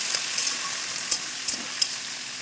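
A vegetable ghyat sizzles in a pan over a tempering of panch phoron, cumin and dried red chillies, giving a steady faint hiss with a few soft ticks and pops.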